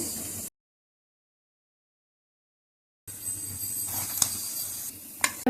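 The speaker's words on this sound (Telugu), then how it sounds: "కలర్ వచ్చేంత వరకు మీరు ఫ్రై చేసుకోవాలి" Leftover-rice fingers frying in hot oil give a steady, low sizzle after a long silent gap, with a soft clink or stir and a brief sharper crackle near the end.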